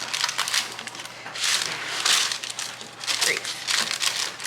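Parchment paper crinkles and rustles in repeated soft swells while thick coffee cake batter is spread over it, close and moderately loud.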